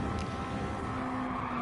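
A Ford Cosworth race car in a racing video game, its engine droning with a rising whine, steady and moderately close through a short pass without any talking.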